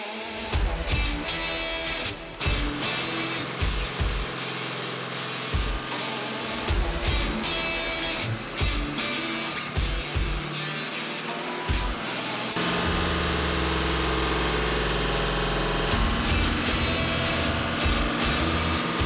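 A loud, steady Hummer H1 Alpha engine roar fills the engine room up close, rising and surging in bursts with clanks and mechanical rattles throughout.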